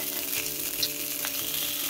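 Thick pieces of salmon sear in a hot pan, a steady close hiss of frying with faint scrapes of a thin spatula checking underneath, no voices.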